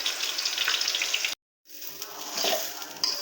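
Food sizzles steadily in a hot pan, a bright continuous frying hiss that cuts out briefly before resuming.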